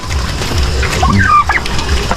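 A turkey gobbles nearby on a farm in a quick burst of rattling calls over a rough, noisy background.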